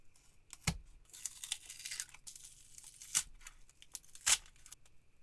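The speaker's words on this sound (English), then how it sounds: "the silicone should have had enough time to cure, so let's rip this out of here" Cured silicone ripped out of a broken PacMan arcade machine, with sharp tearing and crinkling bursts and a few sudden snapping pulls, close and isolated in a quiet room.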